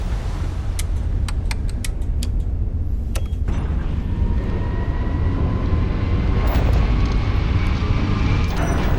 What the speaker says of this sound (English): Switching over to standard engines.